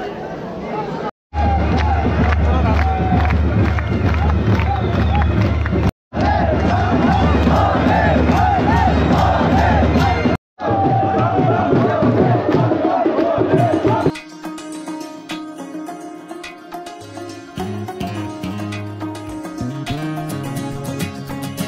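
Crowd of pilgrims at Gaurikund on the Kedarnath Yatra route, a dense, loud babble of many voices and shouts filling the air continuously, with brief cuts, then shifting to a thinner, more distant hubbub.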